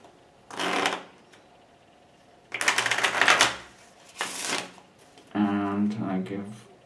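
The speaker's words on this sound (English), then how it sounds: "shuffle the deck." Several close bursts of a card deck being riffled and shuffled, rapid fluttering snaps separated by short pauses, with a brief voice near the end.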